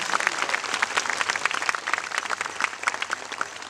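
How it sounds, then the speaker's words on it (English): An audience claps steadily, the individual hand claps crisp and dense, sustained for the whole stretch at moderate volume. "Let's give them all a round of applause for a terrific job."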